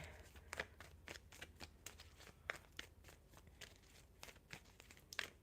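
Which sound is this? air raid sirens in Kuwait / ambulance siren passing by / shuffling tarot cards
shuffling tarot cards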